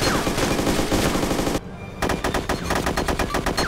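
Rapid automatic gunfire in the video game DayZ, loud and close bursts of shots, a short pause, then another string of fast rhythmic shots.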